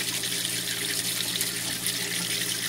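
Water drains steadily from a soaked sponge into a waterfall-style drain soap dish, a continuous close trickle and hiss with no voices.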